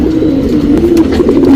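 Nagina patta pigeons coo steadily and up close, a soft continuous burble of repeated low calls with no talking.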